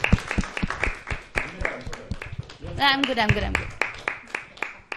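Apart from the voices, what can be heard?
applause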